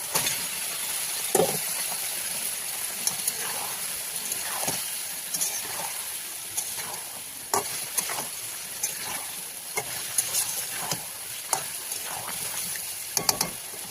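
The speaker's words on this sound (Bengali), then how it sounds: "মশলা প্রায় কষে গেছে, এবার আমি এখানে সেদ্ধ করা মাটন দিয়ে দেবো।" Boiled mutton goes into a pan of frying masala and is stirred, with a steady sizzle and a high hiss underneath and repeated scraping knocks of the spoon against the pan, close and without speech.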